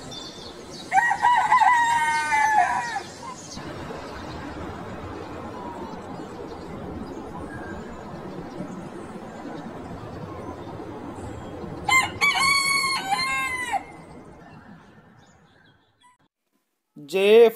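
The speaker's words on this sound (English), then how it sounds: "H for hen। H for hen।" A chicken gives two loud, drawn-out calls, one near the start and one later, with a low, steady background between them and a brief sharp call at the very end.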